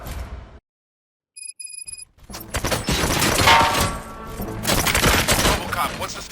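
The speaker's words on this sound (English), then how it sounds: "Gunshots?" Bursts of gunfire in a RoboCop scene break out after a moment of near silence and a short electronic tone, then continue as dense, loud, rapid shots and clatter for several seconds.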